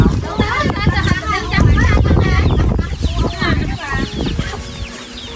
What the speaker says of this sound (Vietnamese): Con gà vừa bắt được vừa bắn được không?